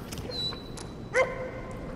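Small dog in the video game Nightmares from the Deep 3 giving a single sharp yip-like bark amid soft game ambience and a few light effect tones.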